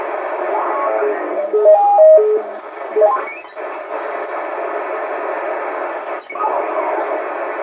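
A Radioshack DX-394 radio receiver with an anti-chuff modification plays a continuous band of static, with a few tuning beeps and chirps and occasional brief dips in the hiss.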